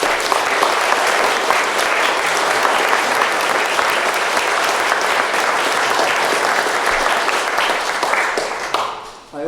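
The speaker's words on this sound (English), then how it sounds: "So would you give them all a round of applause?" An audience at a church election hustings applauds the candidates with sustained, dense clapping that stays loud and steady for about nine seconds, then tapers off at the end.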